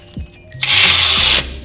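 A power tool removes old bolts from the undercarriage of a supercharged V8 mini box truck in one loud, close burst of about a second, with a higher whine over a low mechanical drone. A few faint knocks come before it.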